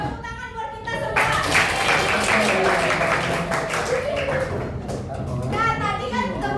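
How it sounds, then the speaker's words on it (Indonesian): Students in a classroom break into sustained applause, a dense wash of clapping lasting several seconds, with a teacher's voice before and after and children's chatter mixed in. "Tepuk tangan buat kita semua."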